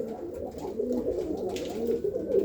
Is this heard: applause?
no